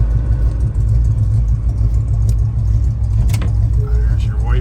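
A 1983 Chevrolet Blazer's engine idles with a steady low rumble close by, a few clicks and light rattles over it, while someone talks.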